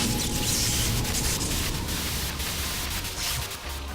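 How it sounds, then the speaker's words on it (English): Harsh, broadband white-noise static hisses steadily and loudly for about four seconds with no voices, the screen-static cue that opens a battle in the .hack//Outbreak video game. "White noise on the screen will signal the start of battle."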